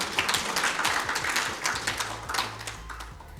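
An audience applauds at Agnes Odhiambo's keynote speech: steady, dense clapping from many hands fills the room at moderate level for a few seconds, with no voices over it.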